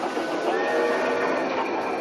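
Trains run along a railway track in a steady, continuous rumble and clatter with a faint high metallic whine, heard alone.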